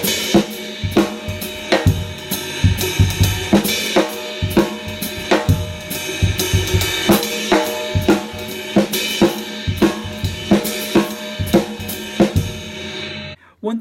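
A drum kit plays a steady groove with a hi-hat that opens in splashes on a Gretsch setup. Crisp, evenly spaced hits and cymbal washes repeat close up for about fourteen seconds.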